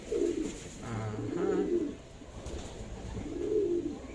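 A racing pigeon coos in low, rolling, throaty phrases, three repeated bursts spaced about every one and a half seconds, close and clear with no talking.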